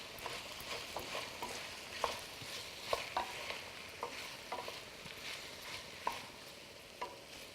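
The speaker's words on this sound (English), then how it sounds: "I'm quickly just gonna walk back over and stir this quick" Spoon stirring food in a hot pan with a soft continuous sizzle, punctuated by repeated scraping knocks against the pan at an irregular rhythm.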